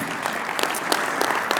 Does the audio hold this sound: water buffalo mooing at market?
no